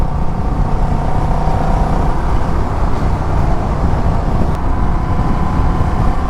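A Honda Rebel 1100 DCT motorcycle cruises at about 55 mph on a highway, a constant loud drone of engine and wind rush with no pauses or gear changes.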